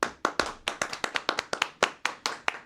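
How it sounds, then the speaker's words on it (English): Hands clap in a steady, loud beat during the Cupid Shuffle, a dozen crisp claps in close even rhythm with a few quicker doubled hits, no voices over them. "everybody clap your hands."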